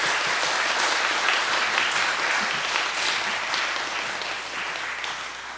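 Large congregation applauding in a church on Pentecost Sunday as the pastor steps up to preach, a dense, sustained wash of clapping that stays loud throughout and tapers slightly toward the end, with no voices.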